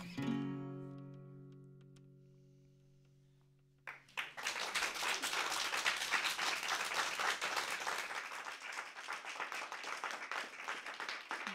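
A studio audience breaks into sustained applause as the last sustained notes of a folk song performed live on a radio program die away, the clapping starting abruptly and continuing evenly to the end.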